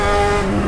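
A Yamaha XJ6 motorcycle engine holds a loud, steady, buzzing drone in a very short burst.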